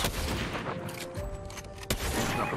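Scattered gunshots crack out in a Fortnite match, with a sharp, louder report near the end standing out above a busy backdrop of game noise and faint rattling fire.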